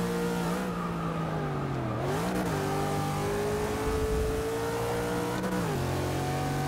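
Nissan GT-R engine in the racing game Forza 6, a steady loud drone that rises and dips as the car accelerates, eases off briefly around corners and climbs again, with no talking over it.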